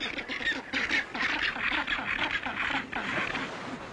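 Small, quarrelsome little penguins with yellow head tufts call in a noisy group, giving harsh honking and quacking cries that overlap and repeat close by without pause.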